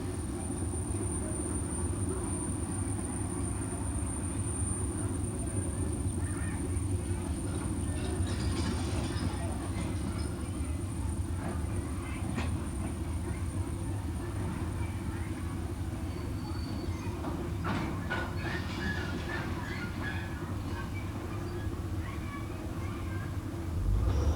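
Slow rail cars rumble and roll along the tracks of a Swiss BLS railway during shunting, with occasional clanks and squeals over a steady low drone, heard from nearby.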